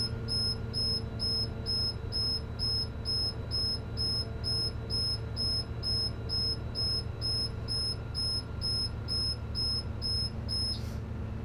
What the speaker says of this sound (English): the low air warning light and alarm should go off.